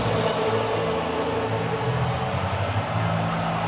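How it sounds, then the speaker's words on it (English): A dense, steady roar from a football stadium crowd in Morgantown after a West Virginia Mountaineers win over Baylor, loud and sustained without a break. "Listen to this crowd"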